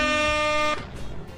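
A loud, steady air horn blast from a phone app with a harsh buzzing tone that cuts off abruptly, leaving low background rumble.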